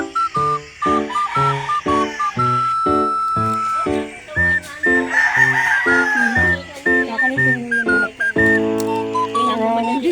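Chickens cluck and a rooster crows in a backyard pen, with repeated harmonic calls rising and falling close by across the whole stretch, fairly loud and steady.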